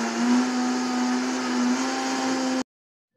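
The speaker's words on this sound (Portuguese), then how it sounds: "Agora eu vou bater por 2 minutos." Blender whirring at steady high speed while mixing milk pudding batter with cornstarch, a loud continuous motor hum that cuts off abruptly near the end, with no talking.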